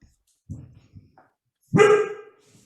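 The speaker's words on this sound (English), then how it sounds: "I'm sorry I've got a very nervous dog here" A nervous dog gives a few soft low whimpering sounds and then one sharp, loud bark, close by in a quiet indoor room.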